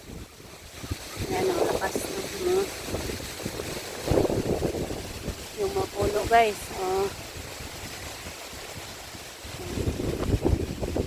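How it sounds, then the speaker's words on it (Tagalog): Strong typhoon wind from Kristine sweeps along the Bohol seashore, a constant rushing roar buffeting the microphone over crashing surf, while someone talks intermittently through it. "malakas talaga ang hangin"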